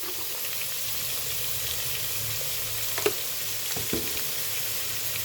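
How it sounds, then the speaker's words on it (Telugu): Potatoes fry with salt in a pan over high heat for a mutton chops curry, a steady close sizzle running throughout with a couple of brief scraping stirs midway. "ఇప్పుడు ఆలుగడ్డ బాగా ఫ్రై కావాలి."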